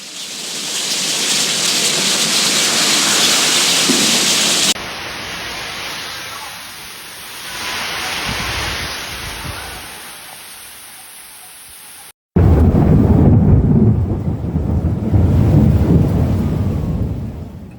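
Heavy rainstorm with thunder in New York City during extreme flash-flood rainfall: loud dense rain hiss with rumbling thunder, cutting between scenes of pounding downpour and a softer patter before a heavy roaring burst returns.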